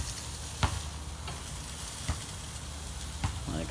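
Pork tenderloin sizzling on a Kamado Joe grill, a steady close hiss of frying broken by three soft clicks or taps as the meat is shifted.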